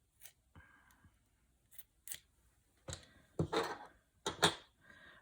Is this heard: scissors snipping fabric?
yes